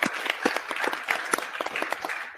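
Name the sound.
round of applause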